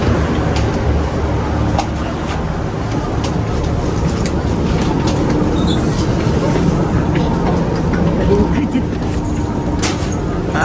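Railway station between Nagoya and Matsusaka, Japan, with a steady low rumble and hum of a train and platform ambience throughout, and people talking over it.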